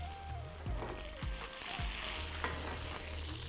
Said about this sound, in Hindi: हॉट ऑयल, ये लो जी, गार्लिक और चिल्ली